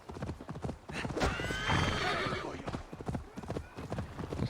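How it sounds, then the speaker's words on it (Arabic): Horse hooves clip-clop steadily as a rider travels on horseback in Assassin's Creed Valhalla, close and rhythmic, with a neigh partway through and faint speech underneath. "شلون انا من فوق الحصان"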